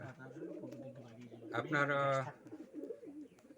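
Pigeons coo in a shed, low rounded calls repeating at close range, with a brief louder burst in the middle while someone talks over them.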